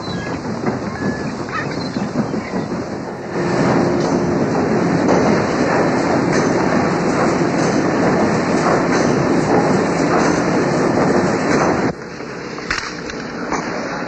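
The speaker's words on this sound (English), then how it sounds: "This coal-burning steamer, which we are on, is a relic of the Industrial Revolution." A coal-burning steam train rolls along the rails with a loud, steady clatter and rumble heard from on board, swelling louder after a few seconds and easing back near the end.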